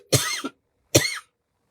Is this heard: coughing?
yes